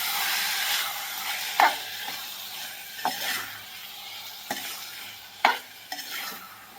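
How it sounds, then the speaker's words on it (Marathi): A spoon stirs sprouted moth bean curry in a hot pan over a soft sizzle, with several distinct scraping strokes against the pan at irregular intervals. "मोड्या घातल्यानंतर हे सगळं मिक्स करून घ्यायचं आहे"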